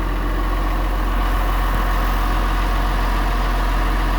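An old Massey Ferguson tractor engine idles after a cold start, a steady, loud low rumble running alone throughout.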